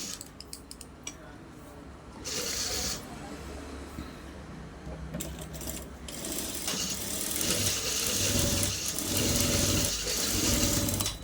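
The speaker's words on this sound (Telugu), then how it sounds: "ఇప్పుడు నీట్గా నెక్ దగ్గర నుంచి స్టిచ్ వేసుకురావాలి. నేను చిన్న కుట్టు పెడుతున్నా." A sewing machine stitches along the neckline of a blouse, running in short bursts and then a longer steady whirring run, with someone talking over parts of it.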